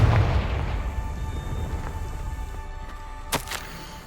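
A Confringo blast spell from the game Hogwarts Legacy erupts in a loud, rumbling boom that slowly decays, followed later by a pair of short sharp crackles.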